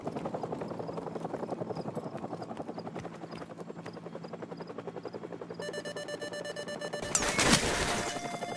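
An enemy helicopter in Call of Duty 4: Modern Warfare Remastered campaign, with steady rotor chopping throughout, joined near the end by a harsh electronic lock-on tone and a loud burst.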